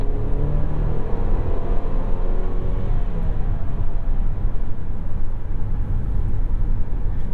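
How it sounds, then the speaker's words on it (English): Steady broadband tire roar on the road, heard from inside the cabin of a 2021 Mercedes-Benz GLC300 4MATIC, continuous low rumble with no voices. "A little bit of noise from the tires there."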